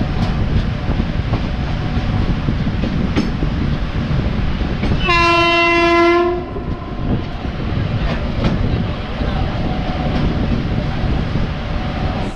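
A train hauled by a WAP-7 electric locomotive on the Konkan Railway rumbles past with steady rolling noise, broken by one loud, sustained horn blast of about a second near the middle.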